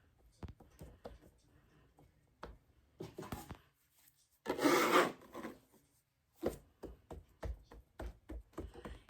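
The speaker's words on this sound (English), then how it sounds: "Flour the surface and just begin to pat it out." Floured hands pat and press biscuit dough on a work surface, giving soft, irregular slaps and rubbing taps, with one longer, louder rustling burst in the middle, close up and quiet.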